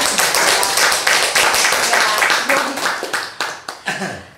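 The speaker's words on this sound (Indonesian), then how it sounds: "Boleh minta tepuk tangannya dulu dong biar ada" A crowd applauds briskly, dense clapping that thins out into a few scattered claps and fades near the end.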